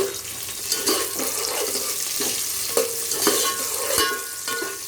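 Green chillies and curry leaves fry in hot oil, crackling steadily up close. Repeated scraping stirs and light clanks of a spoon against the pan come roughly every half second to a second, and no one talks.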